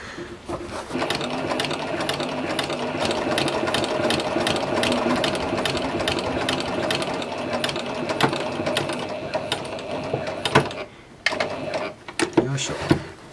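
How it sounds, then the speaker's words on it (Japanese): Sewing machine stitching along the outer line of a garment neckline, a steady loud mechanical whir with rapid needle clatter for about ten seconds, then stopping and restarting in short bursts. "ここの 外のラインを 縫っていきたいと思います。"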